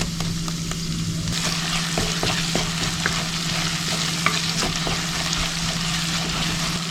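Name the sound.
crushed ginger and garlic frying in hot coconut oil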